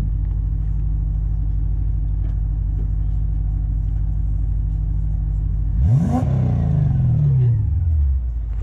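A Toyota 1UZ-FE V8, supercharged in a 2006 Hilux Vigo, idles with a loud, deep, even rumble, then takes one sharp rev that climbs and falls away.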